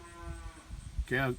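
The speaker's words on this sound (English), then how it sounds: "the calf is bawling for milk." A penned calf at a big pasture bawls once, a loud, drawn-out harmonic call near the end, after a quieter stretch of low rustling and a faint earlier tone.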